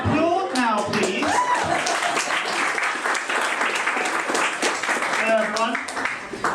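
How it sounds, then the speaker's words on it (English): Audience applause fills the room, dense steady clapping mixed with cheering voices, fairly loud and continuous, with a speaking voice breaking in at the start and near the end. "applaud now, please"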